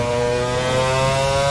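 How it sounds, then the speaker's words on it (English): A video-game McLaren Formula 1 car from 2003 to 2005 with a V10 engine screams at high, steady revs, a dense whining drone held loud and constant for the full short burst, no voices. "That's a V10. That is the sound of a V10."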